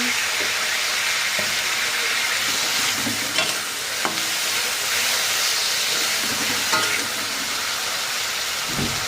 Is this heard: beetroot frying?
yes